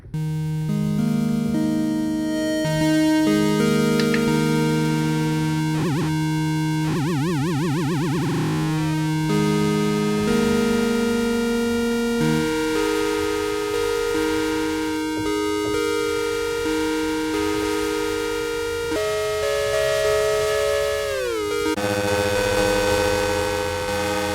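Shifting FM synthesis tones from a Sequential Prophet-6 synthesizer with bright, metallic harmonics, wobbling and bending in pitch as the timbre changes, played alone without any voice.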